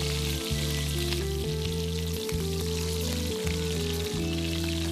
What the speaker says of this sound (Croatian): Pureće rolice zapecite tako da dobiju lijepu zlatnu boju.